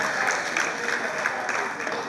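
Steady applause from a comedy show audience, a dense wash of clapping that holds evenly throughout without pause.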